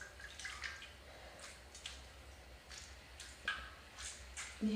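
Wet squelching from curly hair being squished in a bowl of water with conditioner, a run of soft, repeated splashy drips and squelches at close range, fairly quiet, with no talking.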